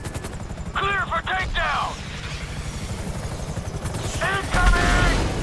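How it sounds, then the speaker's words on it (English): FIB helicopters in the video game GTA V, a loud constant rotor thump and engine drone running throughout, with radio-style voices speaking over it and sharp bursts of game gunfire. "FIB choppers, pick me up."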